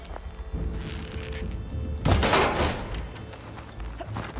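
Gunfire aimed at an object in Horizon Forbidden West: a loud broadband burst around the two-second mark with a decaying tail, over a steady backdrop of game ambience and faint tonal music.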